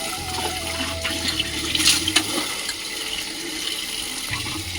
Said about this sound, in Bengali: কুম্ভের জলে স্নান করছি ভাই